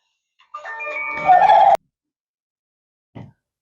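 Two-month-old Big6 turkey poults in a small indoor pen give a short burst of warbling, gobbling calls, fairly close, followed by silence and one brief faint call.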